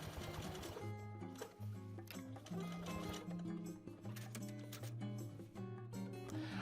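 A domestic sewing machine zigzag-stitches a patch pocket onto jeans with a narrow stitch, giving a steady, fast mechanical chatter under background music that runs throughout.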